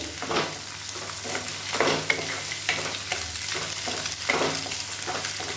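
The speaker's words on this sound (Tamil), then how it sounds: "இந்த ஸ்டேஜில் எல்லாத்தையும் சேர்த்து ஒன்றா கிளறிக்கலாம்" Egg fried rice with beans being stirred in a hot pan, repeated scraping strokes of a spatula over a continuous sizzle, close and moderately loud, no talking.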